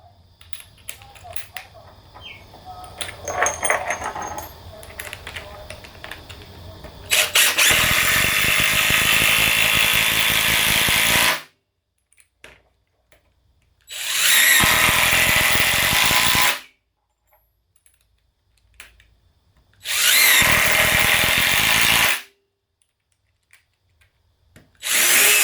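Ryobi One+ and Dewalt 18V cordless impact drivers driving screws, three loud sustained bursts of a few seconds each separated by short silences, following a stretch of quieter handling and clatter.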